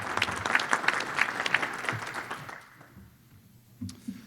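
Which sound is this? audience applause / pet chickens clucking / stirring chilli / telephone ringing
audience applause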